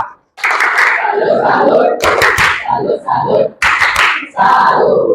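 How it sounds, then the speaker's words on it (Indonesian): Teacher-training participants give a presenting group a patterned salute clap: bursts of rhythmic hand claps alternate with loud chanted voices, close and energetic, with short pauses between phrases. "Kita berikan tepuk salut untuk kelompok 2."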